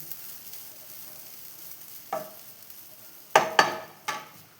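Grated coconut roasts in a pan, sizzling softly, then a few sharp scraping stirs ring out near the end, loud and close, with no voices.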